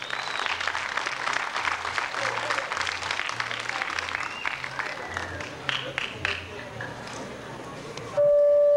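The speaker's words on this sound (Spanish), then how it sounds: "Un fuerte aplauso para todas ellas." Applause from a pageant audience at a 2021 fair beauty contest, broad and steady under a repeating low music pattern, fading near the end before a sudden steady tone cuts in.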